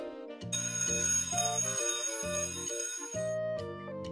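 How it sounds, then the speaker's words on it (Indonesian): A school bell signals the start of class, sounding as a sustained electronic chime in a repeating tonal pattern, loud and continuous throughout with no voices. "Bel masuk pun berbunyi."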